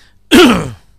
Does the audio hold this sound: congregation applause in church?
no